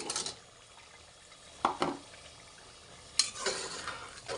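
Medium-sized potatoes fry in oil and spice masala in a pan, a soft low sizzle broken by a few scraping stirs of a spoon.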